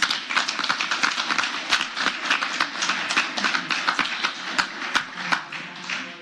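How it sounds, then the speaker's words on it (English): An audience at a Tacoma Indigenous Peoples Day council meeting gives a steady round of applause, dense overlapping clapping filling the room for six seconds without speech. "Can we give her a round of applause?"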